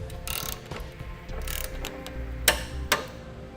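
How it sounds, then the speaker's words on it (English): Metallic ratcheting clicks from a torque wrench tightening trailer hitch bolts on a 2013 Ford Explorer, several short bursts close up, ending with two sharp distinct clicks. "We'll use a torque wrench to tighten down the bolts as specified in the instructions."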